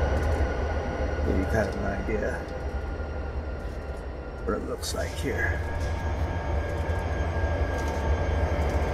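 A train idles and rumbles at Truckee in the Train Simulator 2018 game, a steady low mechanical drone with occasional faint tonal squeals and whines rising over it.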